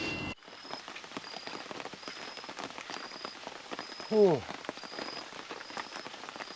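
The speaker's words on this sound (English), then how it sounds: "One of the problems is the rain." Rain falling steadily in dense forest in Thailand, a constant close patter with scattered drips and rustles, while a person briefly exclaims.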